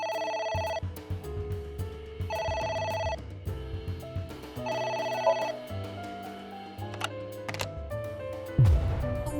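Electronic phone ringtone in AI: The Somnium Files, heard as four clear repeated ring bursts at an even pace over low background music, then some clicks and a brief low swoosh.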